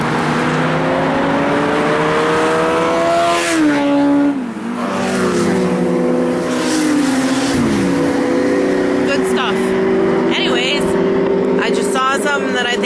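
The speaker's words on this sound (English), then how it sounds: "You might not be able to hear me because the traffic is whizzing by me, behind me." Traffic on the Robert Moses Parkway beside the Niagara Gorge, a loud continuous engine roar with vehicles speeding past and pitch sweeps, under a voice.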